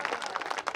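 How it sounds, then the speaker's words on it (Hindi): Audience applause at a Hindi kavi sammelan poetry recital in Ahmedabad, a steady patter of many hands clapping at moderate distance, dense and even without a clear rhythm. "जो तालियां आपकी मुझ तक पहुंची"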